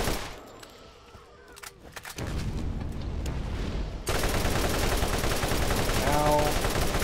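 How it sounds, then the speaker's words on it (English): Enemy gunfire in Borderlands, a quiet opening that swells into dense continuous rapid shooting and grows louder, with game noise and a voice speaking over it. "It's gonna start shooting."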